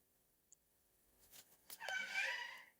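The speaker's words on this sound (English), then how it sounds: "Do you hear that kitty cat? He is in the hallway." A cat meows in a hallway, heard faintly from a short distance as a single drawn-out, rising cry near the end, preceded by soft scattered shuffles in an otherwise quiet room.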